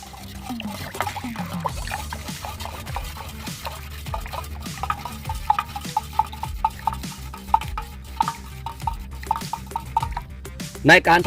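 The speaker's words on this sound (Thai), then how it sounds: "เมื่อเสร็จแล้วในการทำหัวเชื้อเราก็คนเลยครับ" Homemade liquid fertilizer starter mixed with an energy drink is stirred in a container, giving repeated rhythmic scraping and sloshing strokes, close and moderately loud, with someone talking over it.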